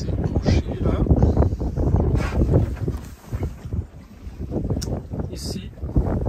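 Strong west wind buffets a microphone aboard a sailboat under motor off the Turkish-Greek coast, a loud continuous rumbling roar with gusty swells and faint hissing water beneath.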